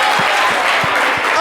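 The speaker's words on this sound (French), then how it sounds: "on peut l'applaudir très fort." A studio audience at a French talk show claps in a steady, loud wash with a few heavier low thumps, while a host's voice carries on over it.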